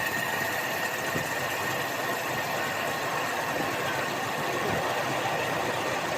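A Toyota Kijang 5K engine with a carburetor running rich idles roughly, giving a quiet, steady, uneven chugging with faint knocking and rattling throughout.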